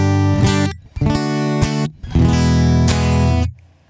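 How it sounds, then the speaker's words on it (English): Bright, crisp acoustic-style guitar chords from an electric guitar's piezo saddle pickup, strummed in short bursts with brief gaps, close and fairly loud, ending with a fading ring. "it also has another output which is sort of an acoustic guitar sound using piezo saddles"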